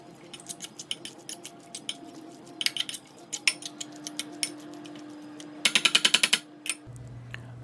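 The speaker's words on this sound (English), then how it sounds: "stir it up again." Utensil scraping and clicking against a bowl while stirring tuna salad with added celery, a string of irregular close taps building into a fast rapid burst near the end, heard alone.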